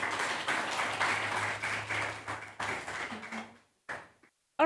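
An audience applauds a guest speaker, Dr. Silke Bollmohr, at a talk on highly hazardous pesticides in Kenya. The clapping is dense and steady for about three seconds, then thins out to scattered claps and a few brief voices before stopping.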